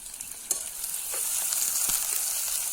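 Green onions sizzle and fry in a pan outdoors, a soft steady crackle with occasional small pops and stirring scrapes, fairly faint and close.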